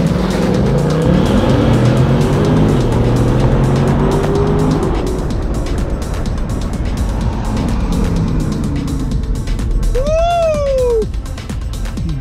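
A car accelerating hard in sport mode during a street race in Los Angeles, loud roaring engine with rising pitch sweeps and gear-change drops, a passing whine near the end, close and continuous.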